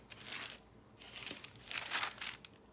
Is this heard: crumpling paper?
yes